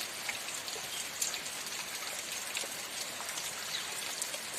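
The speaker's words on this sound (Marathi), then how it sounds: "छान वाटतं पाऊस पडायला लागल्यानंतर एकदम हिरवगार वातावरण" Steady rain falls continuously, a dense hiss of drops with scattered sharper taps close by, and nobody speaks.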